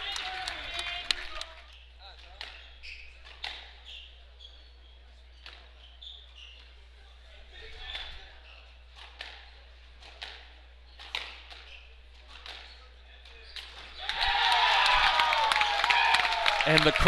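A squash match crowd bursts into loud sustained applause and cheering after game one. Sparse ball strikes and court sounds with commentary come first, then the clapping swells near the end.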